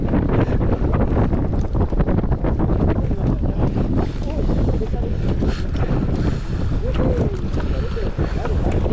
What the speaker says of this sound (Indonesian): Kuat lah bang, angin.